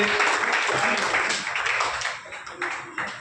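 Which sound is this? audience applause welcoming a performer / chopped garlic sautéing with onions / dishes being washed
audience applause welcoming a performer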